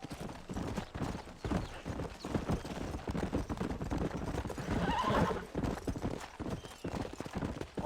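Horses in Red Dead Redemption clip-clop in a dense, continuous rhythm of many hooves. A loud whinny rises in the middle, and faint voices mix into the busy hoofbeats.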